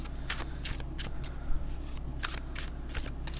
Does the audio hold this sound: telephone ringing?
no